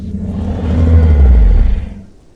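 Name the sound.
creature friendly call from a video game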